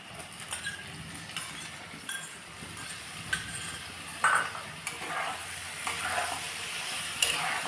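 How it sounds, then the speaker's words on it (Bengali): Boiled soya chunks frying in oil in a pan, a soft steady sizzle with occasional stirring scrapes and light clinks, fairly quiet and with no speech. "এই ভাজাটা হলে আমি এতে সোয়াবিনটাকেও ভেজে নেব।"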